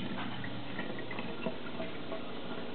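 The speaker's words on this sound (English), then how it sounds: "You hear the water rushing through." Water rushes steadily through a running pump as it empties a bucket, a continuous broadband wash with faint ticks and gurgles, fairly close, with no talking.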